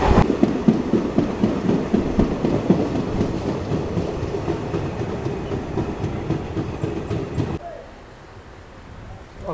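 A train rolls along the rails on the route between Deoghar and Basukinath, a near rumbling clatter with rhythmic clickety-clack that fades and drops away toward the end.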